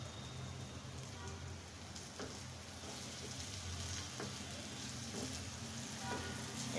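Salted bitter gourd (karela) frying in a pan, giving a steady, close crackling sizzle with scattered pops that runs evenly throughout.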